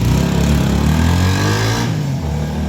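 A Honda Sonic motorcycle engine runs steadily at close range, a loud continuous mid-pitched drone with a slight dip in tone near the end, heard alone with no talking.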